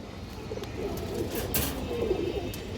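Small young pigeons coo softly in a loft among domestic breeds, with low murmuring calls over a steady background hiss and occasional light knocks.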